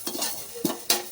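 Chili seeds and fenugreek being stirred and fried in a pan while making gongura pickle, with soft scraping of a spoon and light sizzling, plus two sharper metallic knocks against the pan near the end.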